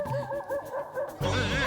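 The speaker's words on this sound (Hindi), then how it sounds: "ये कुत्ता रो रहा है" A dog cries with a high, wavering whimper in a nighttime scene from an Indian family sitcom, the whine rising and falling steadily before a louder, fuller burst joins near the end.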